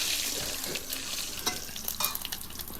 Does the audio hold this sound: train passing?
no